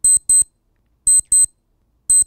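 The Emacs TMR timer notification plays as sharp, bright electronic beeps in quick pairs, three clusters repeating at regular intervals with silence between them, loud and clear with no talking.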